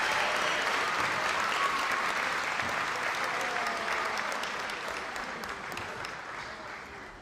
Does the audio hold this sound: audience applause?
yes